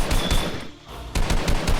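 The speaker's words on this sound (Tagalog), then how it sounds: "Hinabol niya yung aswang ngayon at pinagbabaril." Rapid bursts of gunfire ring out during a chase after an aswang, several loud shots in quick succession, then a short lull and a fresh volley, with no talk over it.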